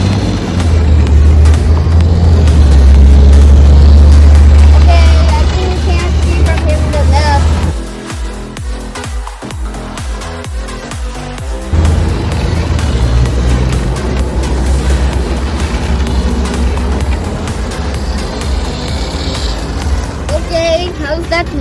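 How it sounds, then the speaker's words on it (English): A Hot Wheels RC toy car drives and spins around outdoors, its motor giving a loud, steady whirring drone that dips partway through before continuing close by. "Look how this car goes and spinning around."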